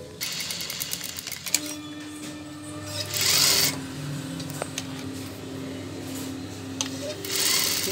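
A sewing machine stitches piping onto a garment neckline with a close, steady mechanical hum and rapid needle ticking, broken by a few louder bursts and brief clicks, with no talk over it.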